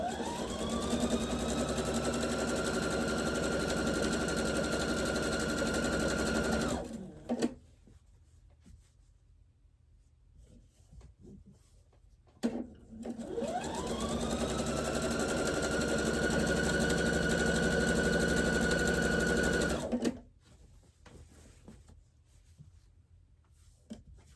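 A sewing machine worked by a foot pedal runs in two long bursts of about seven seconds each, whirring up to a steady high hum, then stopping into near silence between them.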